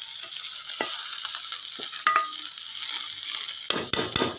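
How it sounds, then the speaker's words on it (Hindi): Green chillies go into a hot pan of spiced oil with amchur, salt and turmeric, giving a loud, steady sizzle that is interrupted by scraping and clinking as a spoon stirs, with no talking. "अब मैं डालूँगी सब्ज़ मिर्चें।"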